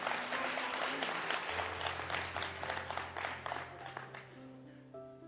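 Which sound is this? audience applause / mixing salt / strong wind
audience applause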